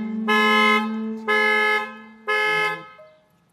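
A Tesla's Sentry Mode alarm blares the car horn in three loud, sustained honks of about half a second each, evenly spaced, with a lower tone lingering between them.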